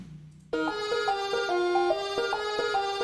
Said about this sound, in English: I'm going to set the pitch of the music loop to be much higher